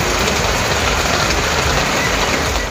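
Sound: heavy rain pouring

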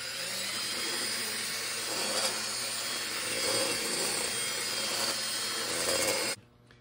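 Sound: deburring tool cleaning a drilled hole in muffler

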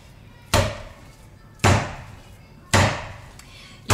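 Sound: minced meat being thrown into a bowl for lula kebab

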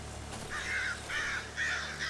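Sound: crows cawing in video game Darkwood

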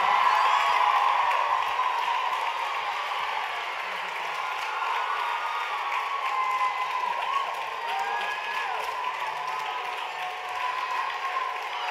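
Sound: audience applause and cheering at dance awards gala

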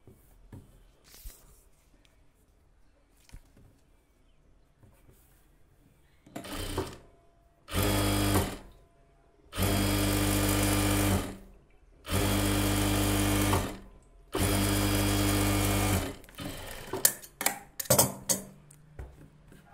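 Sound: sewing machine stitching a blouse

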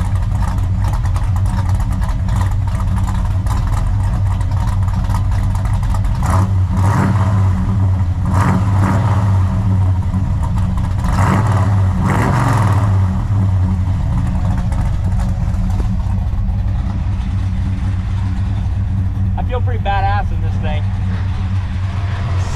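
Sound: 1970 Super Bee 440 Six-Pack V8 engine idling and revving

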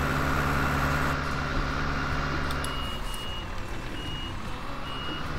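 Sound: vehicle driving in the Farming Simulator 19 video game

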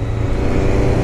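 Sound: Honda CB300R motorcycle engine roaring

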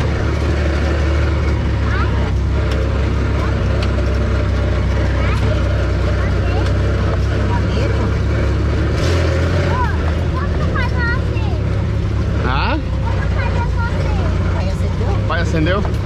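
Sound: jeep engine driving on a trail

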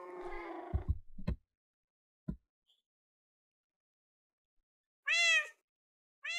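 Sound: cats meowing from Minecraft ocelot mod, video game

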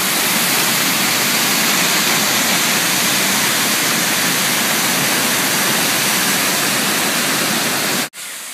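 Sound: loud waterfall roaring at its base in Maui

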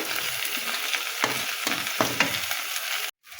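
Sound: onions and cumin frying together in a pan

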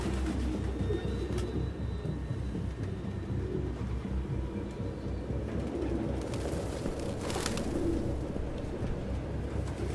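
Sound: pigeons cooing in the video game Detroit: Become Human

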